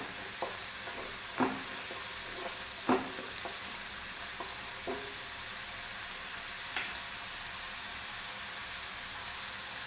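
Close, steady sizzling of a pan stir-fry while making a plain gravy for roti, with several sharp spoon scrapes and clinks against the pan at irregular intervals; no one speaks.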